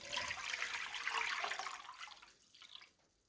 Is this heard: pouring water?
yes